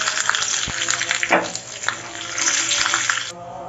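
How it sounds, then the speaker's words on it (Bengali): Water poured into a hot wok holding oil, onion, garlic and a ginger-garlic-cumin paste while cooking a mixed fish curry, a close, steady splashing gush that runs for several seconds and then stops abruptly. "পানি দিলাম"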